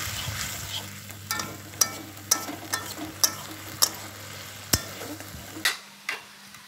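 Spice paste for a double-yolk egg tel jhal frying in oil after water is poured in, a steady close sizzle broken by regular sharp clacks of a spatula stirring against the pan.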